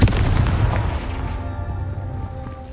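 A Confringo fire spell explodes in the Hogwarts Legacy video game: one loud, boomy blast at the start that rolls into a fading rumble and crackle, alone with no talk.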